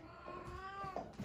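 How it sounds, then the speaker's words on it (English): An old cat yowling indoors, one drawn-out, wavering meow up close that rises and falls for about a second, heard alone. "That sound you hear is my cat Clue"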